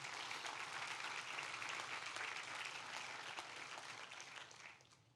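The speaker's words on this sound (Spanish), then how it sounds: "Denle un fuerte aplauso." A church congregation breaks into loud, dense applause, many hands clapping together in a sustained wash that fades toward the end, with no voices over it.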